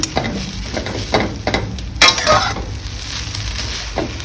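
Mee sua noodles being stir-fried with seasoning in a pan, with rhythmic spatula scrapes and tosses over a continuous sizzle and one sharper clatter midway.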